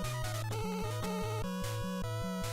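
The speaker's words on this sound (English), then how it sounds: "to me, that's the sound of a phone ringing" A repeating electronic chirp from the video game Roll-chan, resembling a phone ringing, pulses in a steady rhythm of short bursts over a low bass pattern, with no talking.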